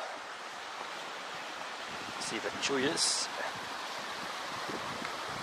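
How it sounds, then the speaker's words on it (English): A mountain waterfall near a remote campground in Patagonia gives a steady broadband rush that runs through the whole stretch, with one person speaking briefly over it. "And then with the added addition of a waterfall."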